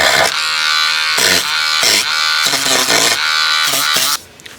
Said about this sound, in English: I'm just going to have this Dremel go off